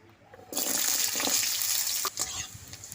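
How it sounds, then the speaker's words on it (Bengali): Carrot pieces frying in oil in a home kitchen while shukto is being prepared, a loud steady sizzle and crackle that starts abruptly after a quiet moment and keeps going, with a brief dip near the end. "এবার ভেজে নেব গাজর"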